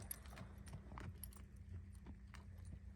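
Soft, uneven clip-clop of a young colt's hooves walking on a hard surface, fairly quiet, with light jingling of tack and no talking.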